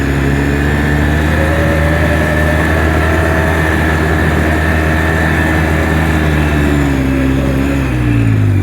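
Loud, continuous engine roar from a 2006 Polaris Sportsman 800 ATV climbing a gravel hill in four-wheel drive, a steady heavy drone with the pitch shifting toward the end, close up and without talk.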